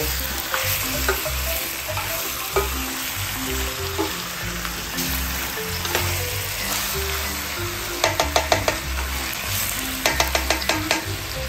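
Chicken arroz caldo sizzles in a pot while a spoon stirs it, with steady bubbling and frying hiss and a run of quick scraping, clinking strokes near the end, close up and with no voices.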